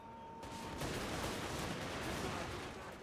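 Massed musket volleys from infantry in the Total War: Warhammer 2 game crackle and roll continuously as dense, overlapping gunfire, loud and sustained across the whole span.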